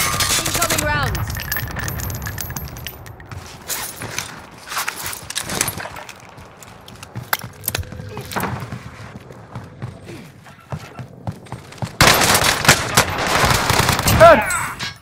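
Video game gunfire in a multiplayer shooter, heard as scattered close shots and short bursts. One dense volley comes near the end. Game voice callouts sound under the firing.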